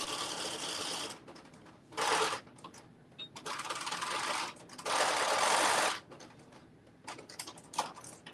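A sewing machine runs a zigzag stitch while a top is sewn, in several close, loud bursts of rapid rhythmic needle clatter with short quiet pauses and small handling clicks between them.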